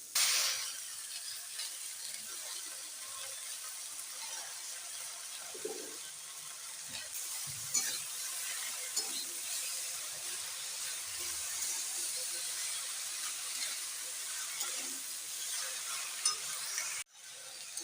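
Spinach and mixed vegetables are stir-fried in a pan for a vegetarian restaurant-style dish, giving a steady, close sizzling hiss that runs unbroken with a few soft stirring knocks and no talking.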